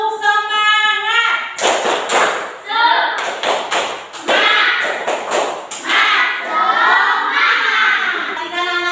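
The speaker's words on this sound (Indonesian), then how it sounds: "Coba tepuk semangat." Schoolchildren in a classroom do a rhythmic spirit clap, sharp claps landing in a quick pattern between loud group chanting and shouts.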